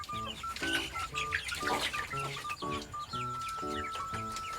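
Egg-laying chickens in cages cluck and cackle repeatedly in short bursts, several birds close by, with a busy farmyard background and no talking.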